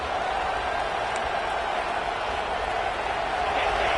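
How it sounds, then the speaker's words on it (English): A large stadium crowd at a college football game between Houston and FSU roars steadily, with a broad, continuous wash of cheering that stays loud and unbroken throughout. "this crowd is fired up. Listen to this noise here"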